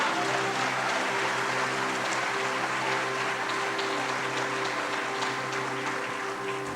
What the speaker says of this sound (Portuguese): Bota uma salva de palmas para Jesus aí.